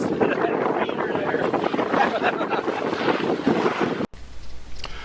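Wind buffeting a microphone outdoors on Kentucky farmland, a loud continuous rumbling roar for about four seconds with a brief word spoken, then a sudden cut to quieter, calmer ambience.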